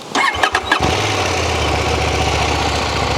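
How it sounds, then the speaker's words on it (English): A 2024 Husqvarna Svartpilen 801 motorcycle engine cranks briefly, catches with a roar, and settles into a steady, close, quiet Euro 5 idle. "So let's have a listen to it as we start it up."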